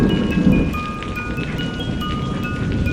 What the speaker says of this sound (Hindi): तभी झमाझम बारिश शुरू हो गई।